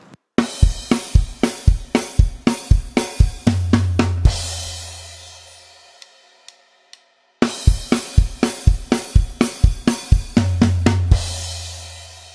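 A beat from a song played on a drum kit, with rapid steady hits and a low ringing tom or bass swell near the end of each bar, played twice with a near-silent pause between, close and loud with no talk.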